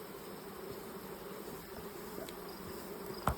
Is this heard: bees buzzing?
yes